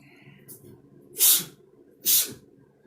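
Two sharp, hissing bursts of breath about a second apart, sounding like sneezes, close and fairly loud, with a softer breath just before.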